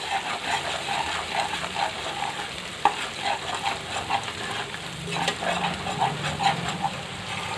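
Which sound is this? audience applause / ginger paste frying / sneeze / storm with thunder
ginger paste frying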